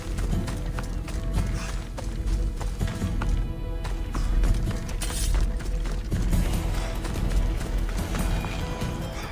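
A horse gallops in the video game Assassin's Creed Odyssey, its hooves pounding in a fast, steady clip-clop rhythm over a continuous bed of game ambience, loud and up close.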